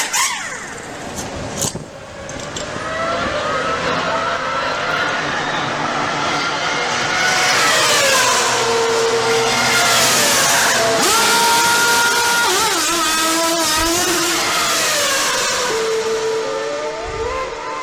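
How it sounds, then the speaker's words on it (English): A race car pulls away from a pit stop after a tire change, its engine roaring loudly and rising in pitch as it accelerates, a sustained, strained whine that swells and shifts over several seconds. "A crewman polishes the windshield as Holland moves away just 67 seconds after he stopped."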